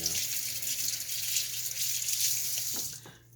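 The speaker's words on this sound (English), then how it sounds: "let me just rinse my hand one more time because it's sticky" Tap water runs steadily into a sink as a hand is rinsed beneath it, a close, even splashing rush that stops abruptly near the end.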